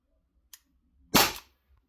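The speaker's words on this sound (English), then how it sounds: "we're on a used 12-gram CO2, and we got one shot left." A single sharp shot from an Umarex SA-10 CO2 air pistol on a used 12-gram CO2 cartridge, a close crisp pop preceded by a faint click, with no talking.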